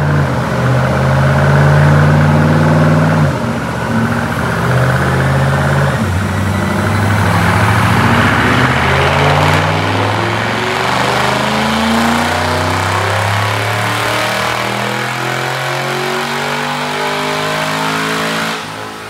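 A 2005 Mustang GT, automatic, three-valve, with an Edelbrock supercharger, runs a pull on a dyno: loud close engine roar that dips briefly, then climbs steadily in pitch with rising supercharger whine before cutting off at the end.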